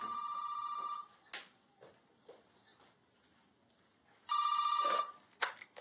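A telephone bell rings in two loud electronic bursts separated by a quiet pause, the steady trilling tone cutting off abruptly each time, with faint room noise between rings.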